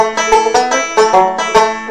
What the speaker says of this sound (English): at the very end we have our classic Scruggs fill lick